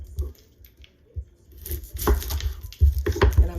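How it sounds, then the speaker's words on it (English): A knife cuts thick slices of onion for keto ribeyes with onions and peppers: a few close, crisp, crunchy cuts come at irregular intervals, building in density toward the end, with quiet handling noises between them. "thick slices of the onion as well"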